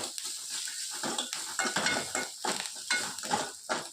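Stirring and sautéing in a pan while making spicy paniyaram, with repeated scraping strokes of a utensil and a steady sizzle, close and fairly busy throughout, with no talking.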